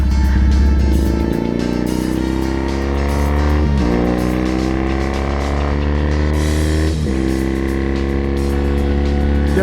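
Triumph Bonneville motorcycle running with its exhaust baffles removed, a loud close steady throbbing exhaust note with rising and falling revs and pulsing harmonics throughout, no talking.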